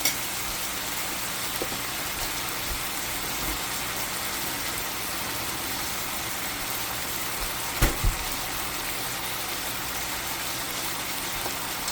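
Thin-sliced Costco beef bulgogi Korean BBQ sizzling in a pan, a steady close crackling hiss with a couple of brief clunks partway through.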